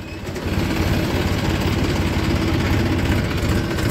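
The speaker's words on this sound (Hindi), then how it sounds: "मोटरसाइकिल ये जा रही है मेरे से बराबर में" A motorcycle rides alongside on a rural road near a sugarcane mill, its engine a steady, continuous buzz mixed with other engine drone that stays loud and close throughout.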